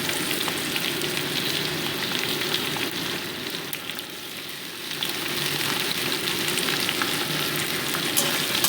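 Potatoes frying in a pan give a steady, close sizzle throughout, with a brief dip in intensity midway before the crackle picks up again; no one speaks.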